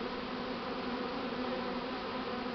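Light-coloured Buckfast honeybees buzzing angrily around a freshly hived first swarm, a dense steady drone close to the ear with bees darting right at the listener, no talk.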